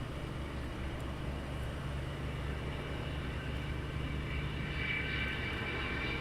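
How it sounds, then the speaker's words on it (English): A WestJet airliner arriving at East Midlands Airport gives a continuous low, even engine roar, somewhat distant and steady throughout. "WestJet arriving."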